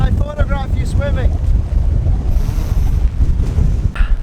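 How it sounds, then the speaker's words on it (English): Wind and ocean waves wash against the shore on a Finnish coast, a loud, continuous roar with gusty microphone buffeting. Brief voices are heard at the start. "the ocean is right there"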